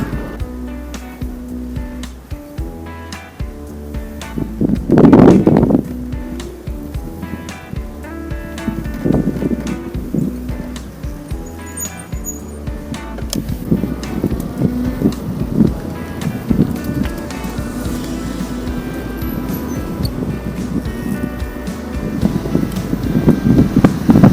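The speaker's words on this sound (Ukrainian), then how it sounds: "дуже сильний боковий вітер" Strong crosswind roars and buffets against the microphone while riding a delivery scooter in Lviv, a steady rushing blast with a motor humming underneath and surges throughout.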